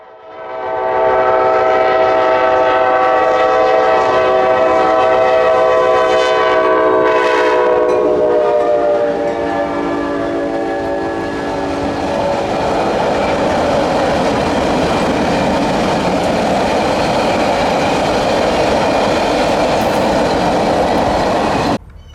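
A Southern Belle passenger train heading south toward Shreveport blows its horn in long loud blasts, then rumbles past at close range with steady wheel noise on the rails, no voices.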